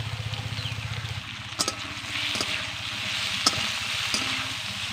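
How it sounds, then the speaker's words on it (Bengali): Drumstick stems and potatoes frying in a pan, a steady moderate sizzle with occasional clinks and scrapes of stirring, and a low pulsing hum underneath at first. "দুই থেকে তিন মিনিট মতন সময় ধরে ডাঁটা আর আলুকে ভেজে নেবো"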